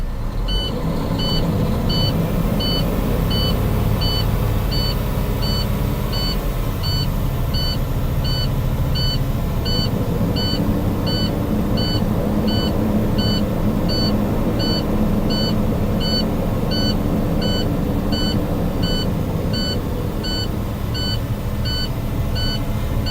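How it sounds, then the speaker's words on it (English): Truck air system low air pressure alarm beeping in a rapid, evenly spaced series for over twenty seconds over a loud, steady running engine held at raised RPM, with no talk. "an audible alarm, meaning that I have low air pressure in the system"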